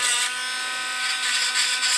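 Continuous gritty, high-pitched whirring of a rotary tool sanding a plastic 3D print, close and steady with slight pulsing.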